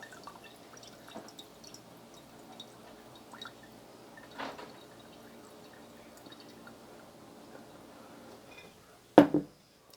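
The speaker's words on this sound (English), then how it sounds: "So we're going to strain it through the sieve." Lemon vinegar strains through a sieve, giving faint intermittent drips and trickles in a quiet kitchen, then a sharp close knock just before the end.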